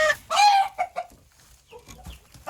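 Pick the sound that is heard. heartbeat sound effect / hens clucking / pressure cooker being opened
hens clucking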